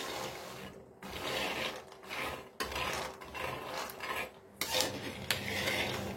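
Peanuts being dry-fried and stirred in a pan, rhythmic rasping scrapes and rattling as the spoon sweeps the nuts across the metal, in repeated strokes with brief pauses, close and moderately quiet.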